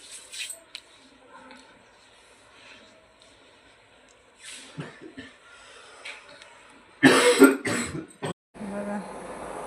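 A sick man lying at home with chills and fever coughs, a few scattered coughs and throat sounds early on, then a louder burst of harsh coughing toward the end, with quiet breathing between.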